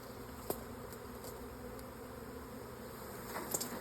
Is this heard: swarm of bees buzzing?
yes